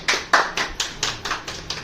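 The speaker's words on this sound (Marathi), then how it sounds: "सो टाळ्या." A few people clap steadily for a gift presented at a traditional Marathi pre-wedding kelvan celebration, about eight sharp, evenly spaced claps, close and fairly loud, with no talking.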